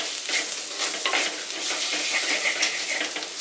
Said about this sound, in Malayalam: അപ്പോൾ ഇതെല്ലാം ഒന്ന് നല്ലതായിട്ട് യോജിപ്പിച്ചെടുക്കാം